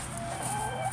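Free-ranging homestead chickens clucking nearby, a low continuous chatter of soft clucks and murmurs over outdoor background noise, with no talk.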